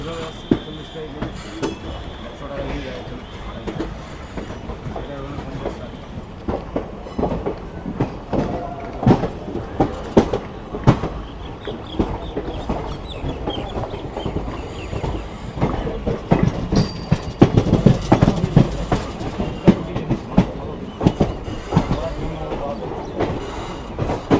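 The 13174 Kanchanjungha Express, on its Agartala to Sealdah run, rolls along the rails near Malda Town with a steady rumble and rhythmic clickety-clack of wheels over joints, a rise in loudness toward the end, and faint indistinct voices in the background.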